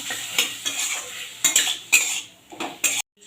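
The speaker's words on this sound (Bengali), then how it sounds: "এবারে ভেজে রাখা দিয়ে দিচ্ছি কচুগুলোকে দিয়ে একটু ভেজে নেবো" Spoon stirring fried taro pieces in a pan with spiced oil for a vegetarian chickpea-taro curry: repeated scraping clinks and scrapes at an uneven rhythm over a soft sizzle, close by.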